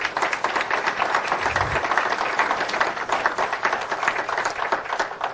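An audience at a fundraising event breaks into dense, steady applause, with many hands clapping close by for about five seconds and no voices over it.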